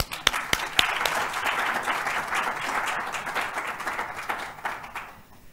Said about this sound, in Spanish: Animamos con un aplauso.